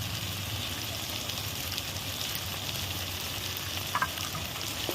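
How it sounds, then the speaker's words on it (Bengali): Ginger-garlic paste, cumin paste and dry chili powder sizzle steadily in hot oil, a continuous close crackling hiss with a brief scrape of stirring near the end. "এবার এটাকে আমি ভালোভাবে কষে নেব"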